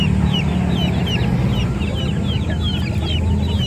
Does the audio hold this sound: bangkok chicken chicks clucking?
yes